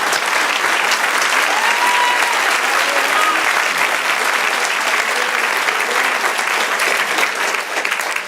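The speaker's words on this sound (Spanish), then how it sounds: "Denle un aplauso, Señor" A church congregation applauds steadily and loudly for several seconds, a dense continuous wash of many hands clapping with no pause.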